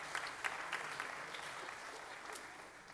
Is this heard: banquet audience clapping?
yes